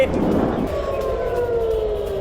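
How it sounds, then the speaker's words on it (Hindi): Air raid sirens wail over Tel Aviv during a missile attack, a steady drawn-out tone slowly sliding downward against a dense wash of background noise. "तेल अवीव में मिसाइल हमलों के सायरन बज रहे हैं।"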